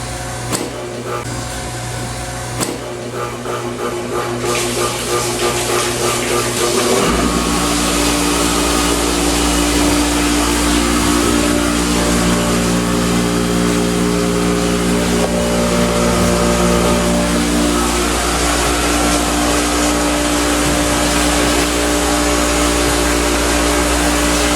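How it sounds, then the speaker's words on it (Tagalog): Motor pumps running at a water refilling station, a loud, close, continuous mechanical whine and hum that swells as another pump starts a few seconds in, then holds steady and very noisy throughout. "I'm sorry for the inconvenience caused by the running motor pumps. Loud, very noisy."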